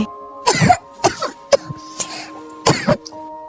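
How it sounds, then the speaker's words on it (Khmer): A series of dry coughs and throat-clearing bursts, about five separate hacks spaced unevenly over a few seconds, close and fairly loud with quiet gaps between them. "ខ្ញុំក្អកស្ងួតក"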